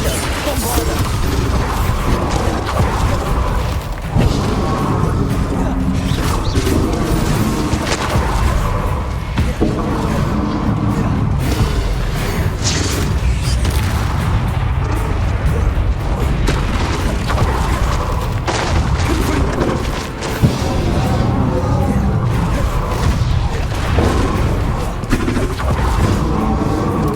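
Repeated booming blasting-spell explosions in the fantasy video game Hogwarts Legacy, loud crashes and thuds in rapid succession over dense combat noise, with voices speaking intermittently.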